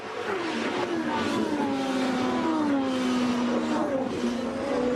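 Bruno Junqueira's Sonny's Barbecue Champ Car race car passing during a 2007 race, its engine whining loudly with a falling pitch as it goes by, followed by further engine drone.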